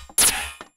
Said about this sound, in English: it ends up creating a real metallic thing.